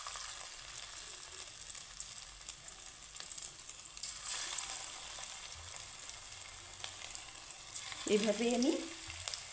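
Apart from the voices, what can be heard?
cabbage pakoras deep frying in refined oil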